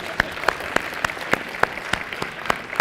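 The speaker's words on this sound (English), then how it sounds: "You may clap" Applause from a university audience at a talk: sparse, rhythmic claps roughly every third of a second over a low murmur, moderately near and steady.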